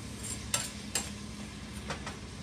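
Something sautés in a frying pan with a steady low sizzle, and a few sharp scrapes of a utensil against the pan cut through it at intervals.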